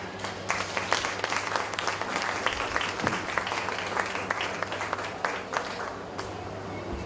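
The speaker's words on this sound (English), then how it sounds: "let's give the minister another round of applause." A fairly small audience at a civil service association young workers forum in Jamaica claps for a minister, sparse individual claps audible over a hum, somewhat faint and uneven.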